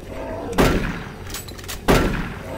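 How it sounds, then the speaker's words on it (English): Two heavy booming shotgun blasts from the first-person shooter Doom 3, spaced about a second apart, loud and close with short decaying tails over a low ambient hum. "Let's just pump a shotgun into him."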